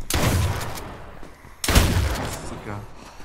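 Loud gunfire bursts in the survival shooter H1Z1, two heavy volleys about a second and a half apart, each ringing out and fading, with a voice briefly talking over the shots.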